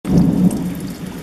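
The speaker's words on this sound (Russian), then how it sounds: "Дождь, гром и молния." A low roll of thunder rumbles over steady falling rain, close and fairly loud.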